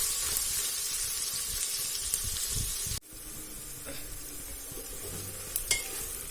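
Four large chopped onions sauté in a pan toward golden brown for chicken biryani, a close, steady sizzle with intermittent stirring scrapes, briefly broken by a cut before resuming with spoon clinks, no talking.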